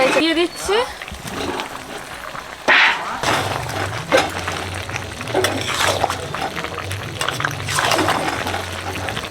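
Water pours into a pot of red chicken curry made with roasted spice paste, a steady rushing splash with a constant wash of noise, while voices talk over it.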